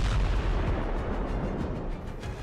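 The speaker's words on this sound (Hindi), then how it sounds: "ट्रंप के B-2 बम वर्षक तेहरान पर बंकर बस्टर बम फोड़ रहे हैं।" Bunker buster bomb explosions pounding Tehran in wartime, heard as a continuous loud, rumbling barrage of deep booms and blasts layered over one another without any speech.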